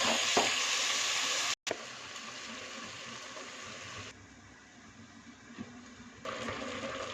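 Goat meat curry with ginger, garlic and tomato hisses and bubbles in a pot while being stirred, a steady close sizzle with occasional scraping, briefly cut off and dropping in level midway before returning.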